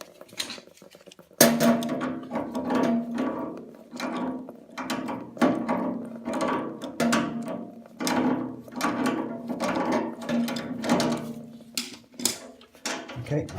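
A radiator valve nut is undone by hand, giving a run of close, rhythmic metallic clicks and ratcheting scrapes with short pauses between turns, moderately loud with no talk.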